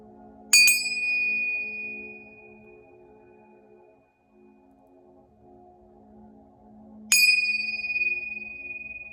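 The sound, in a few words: bell rung three times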